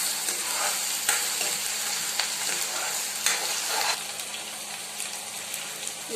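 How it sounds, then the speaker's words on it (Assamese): Ginger garlic paste frying in a pan, a steady close sizzle with occasional scraping stirs of a spoon, loud and alone with no talk. "অকণমান ভাজা কেঁচা গোন্ধটো যোৱালৈকে ভাজি থাকিম।"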